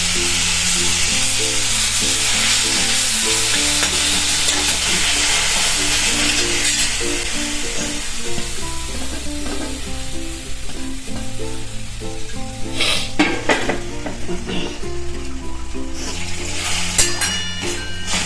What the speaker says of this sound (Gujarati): આપણું ઘી ગરમ થઈ ગયું છે તો આપણે એમાં નાખી દઈશું બધું બીટનું